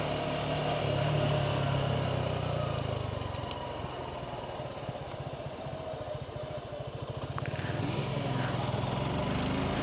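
A Suzuki Gixxer SF 150, a 150cc motorcycle, hums along while riding with a steady buzzing engine note that rises and drops slightly as it runs, under wind noise and brief low talk.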